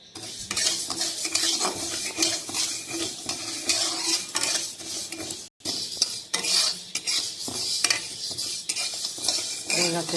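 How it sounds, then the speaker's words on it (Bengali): Moong dal dry-roasting in a hot kadai, with continuous scraping and rattling stirs of a metal spoon against the pan and a light sizzle underneath, close and steady with a brief pause midway. "কড়াই বসিয়ে দিলাম, কড়াই গরম হয়ে গেছে, ডালটা একটু ভেজে নেব।"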